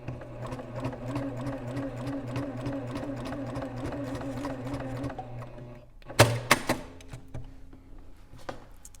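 Sewing machine top-stitching a tote bag runs in a steady rapid hum for about six seconds, then stops, followed by a few sharp clicks and handling knocks.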